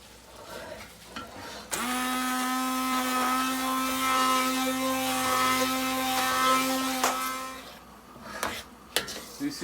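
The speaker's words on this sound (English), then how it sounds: "Now the onion is ready to put into the blender" A kitchen blender whirs steadily for several seconds as it purees onion into a base gravy for a British Indian restaurant curry, starting abruptly and cutting off near the end amid light clatter.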